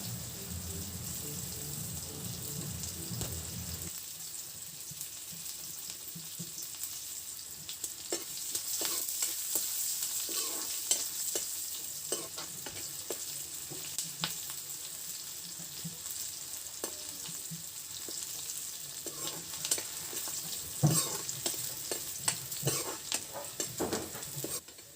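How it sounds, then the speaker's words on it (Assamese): Chopped onions sizzle steadily in oil left over from frying fish, with a soft hiss throughout and repeated scraping clicks of a spatula stirring them in the pan. "মাছ ভজা তেলখিনিতে এনেকৈ পিঁয়াজখিনি দি দিছোঁ আৰু পিঁয়াজখিনি ধুনীয়াকৈ ৰঙচুৱা হোৱালৈকে ভাজি থাকিম"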